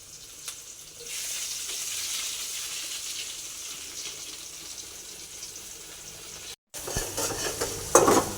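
Onions frying in a pan make a steady close sizzle that builds after the first second, with a brief cut and then louder stirring scrapes toward the end.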